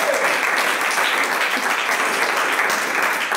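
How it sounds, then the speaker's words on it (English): Audience applause at a Poor People's Campaign teach-in, a dense, steady burst of clapping from a crowd that holds evenly throughout, close and fairly loud. "You can clap for that."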